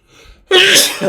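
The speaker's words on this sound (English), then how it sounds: "that was a sneeze" One loud, sudden human sneeze right at the mic, with a short sharp intake followed by a forceful burst of breath.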